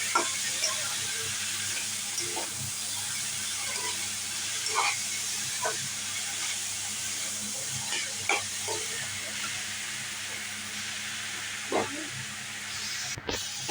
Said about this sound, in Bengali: আলুটা একটু নাড়িয়ে চাড়িয়ে মোচাটা দিয়ে দিচ্ছি ভালো করে নাড়িয়ে দিতে হবে